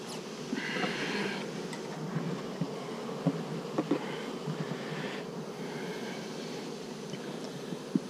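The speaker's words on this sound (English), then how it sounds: "Working bees in the rain, they don't like it." Working bees buzzing in the rain, a dense, continuous swarm drone with surges of nearby wingbeats, steady and moderately loud, with small patters and clicks scattered through.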